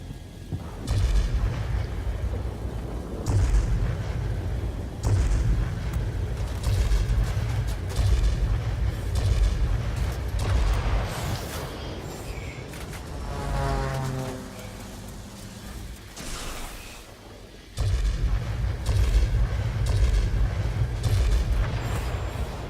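Aircraft gunfire and explosions in the World of Warplanes combat game, flying a German Focke-Wulf Ta 152 fighter: a continuous roar of engine and rattling cannon fire with heavy booming blasts throughout, loud and dense, with a short lull midway.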